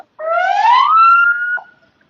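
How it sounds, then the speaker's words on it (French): An ambulance siren sounds a single loud, close wail that rises in pitch and then cuts off, with silence before and after and no speech. "Laisse l'ambulance passer"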